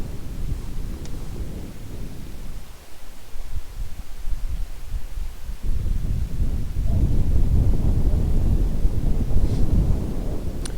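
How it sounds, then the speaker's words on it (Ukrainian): Steady wind buffets a microphone with a constant low roar, swelling louder in the second half, with no voices, while pike fishing with a Mepps 4 spinner. "вітер дує прямо в цю сторону"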